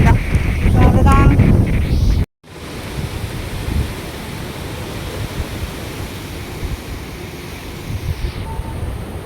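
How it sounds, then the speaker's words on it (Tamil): Strong, steady wind roars across an exposed hilltop, buffeting the microphone with a broad rushing noise; a voice speaks briefly at the start. "ஆனால் பயங்கரமான காற்று"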